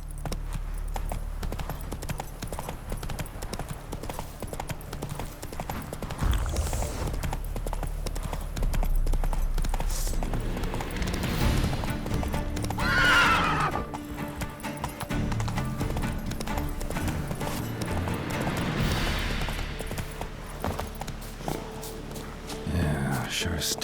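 Roach, the horse in The Witcher 3, galloping with fast rhythmic hoofbeats that carry through the whole stretch, punctuated by whinnies and snorts, with game music and voices talking over the ride.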